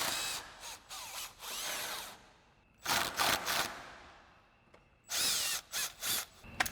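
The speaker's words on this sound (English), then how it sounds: "we'll grab our 10mm socket on our impact, run these off" An impact wrench with a 10mm socket drives out the screws holding a 2014-2018 Sierra 1500 truck grille, in three close, loud bursts of rapid hammering whir separated by short pauses.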